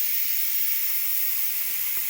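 A steady, loud hiss of steam rushes continuously from an Instant Pot during pressure release after cooking homemade beef stew.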